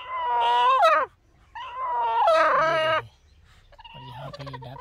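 An Aseel hen and a duck sit together on eggs and give loud, drawn-out harmonic calls, two long squawks followed by a lower, rougher call, close by and with no talking.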